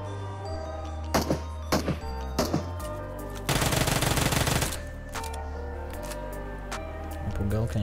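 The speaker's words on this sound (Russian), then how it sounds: "Пулемет." Machine gun fire in PUBG Mobile: a few short bursts, then one long sustained burst of rapid shots, loud and close amid game sounds, with a person talking in between.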